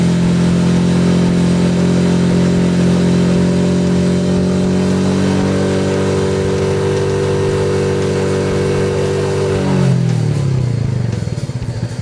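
Royal Enfield Meteor 350 motorcycle engine held at high revs with a loud, steady drone, then dropping back toward idle near the end; close and continuous with no talking.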